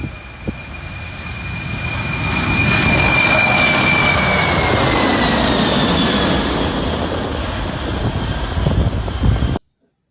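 A toy airplane gives off a jet engine sound: a loud, steady roaring whoosh with a high whining tone that swells and holds before cutting off abruptly near the end, with no talking over it.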